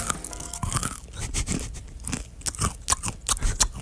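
Crunchy granola with dark chocolate being chewed close up, with loud, irregular crunches and bites repeating throughout and no talking.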